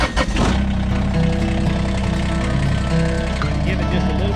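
A machine engine cranks briefly and catches, then settles into a steady, loud, close idle with a throbbing low hum, while people talk over it.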